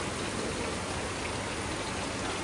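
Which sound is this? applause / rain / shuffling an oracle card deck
rain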